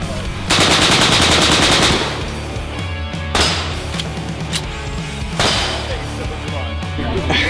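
Bursts of automatic fire from a machine gun ring out at a shooting range, three loud strings of rapid shots with hits clanging on steel targets between them, voices nearby.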